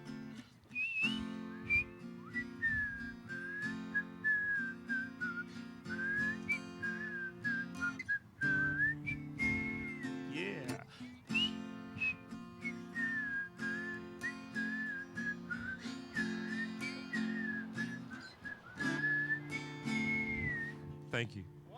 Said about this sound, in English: Whistle along with me, y'all.